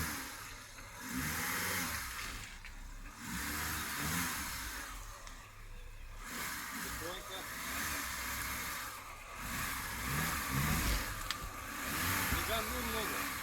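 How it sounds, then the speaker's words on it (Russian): A car engine revs and drops in repeated surges over a rumbling idle on a road trip home from a waterfall, with voices talking intermittently. "Не газуй много."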